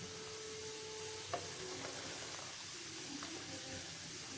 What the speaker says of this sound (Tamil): ஸோ இப்போ நம்ம கிண்டி பார்த்துடலாம்.